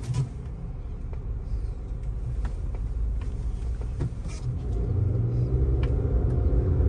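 A 2022 Honda CR-V engine, turbo-equipped, rumbles low and steady from inside the car while driving, with the drone growing slightly heavier toward the end and no talk.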